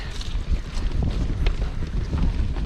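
A mountain bike splashes through a deep creek crossing on a long training ride, with continuous rushing water and heavy wind noise on the microphone throughout.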